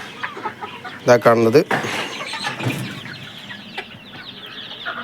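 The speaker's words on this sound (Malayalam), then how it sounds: "ഇതാ മുട്ട ഇടുന്ന കോഴികളാട്ടോ" At a backyard pen holding four egg-laying hens and one rooster, a burst of loud clucking comes around the middle, with softer fowl noises around it and someone talking over the scene.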